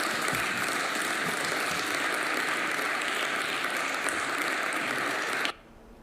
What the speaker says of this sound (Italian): accolta, come avete sentito, anche da qualche timido applauso